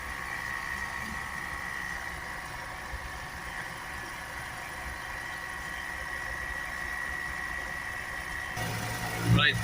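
A 2.0 EcoBlue diesel engine in a Ford Transit Custom idles with a steady hum and faint rattle, heard at close range over a workshop background with a fault on the exhaust particulate filter.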